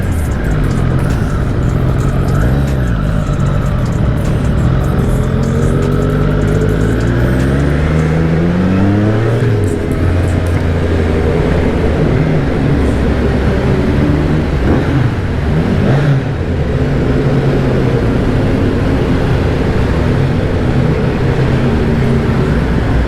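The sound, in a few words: motorcycles revving at a bike meetup, Fireblade, Ducati V2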